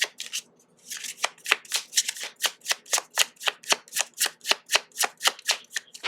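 Tarot cards being shuffled by hand, a fast steady run of crisp riffling flicks repeating about three times a second, close and clear with no talking.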